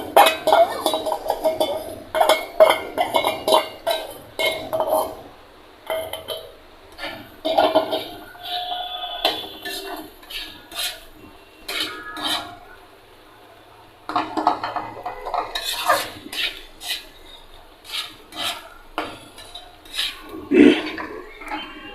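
Egg stirred into fried potatoes in a pan, giving irregular metallic scrapes and clinks of a utensil against the pan, with a short pause midway and a louder knock near the end.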